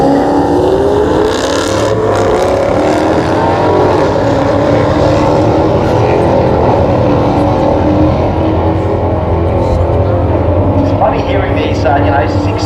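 Mopar cars circling a track at a Mopar Sunday event, engines droning and surging steadily throughout, with a crowd murmur and voices talking underneath.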